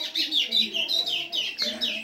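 A small bird, a patativa seedeater, sings loudly and continuously, a rapid series of bright, sweet whistled notes repeating in quick rhythmic phrases.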